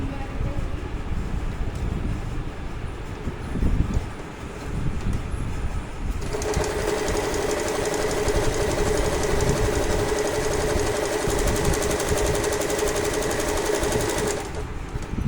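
An Usha Allure Deluxe sewing machine stitches a pico fall onto fabric. Quieter handling noise comes first, then a loud, steady, rapid mechanical whir runs for most of the clip and stops just before the end.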